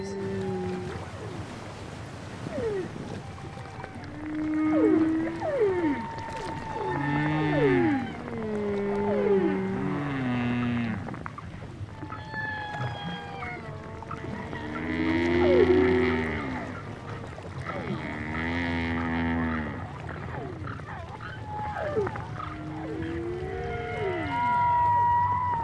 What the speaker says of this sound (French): saisit les sons mêlés des baleines et du trafic maritime alentour